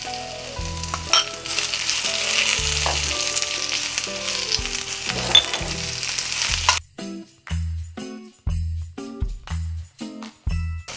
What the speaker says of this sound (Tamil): இப்போது தோல் போட்டு நல்லா வதக்கலாம்.